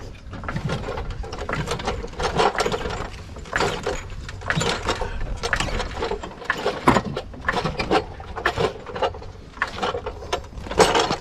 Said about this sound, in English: Get your jack going.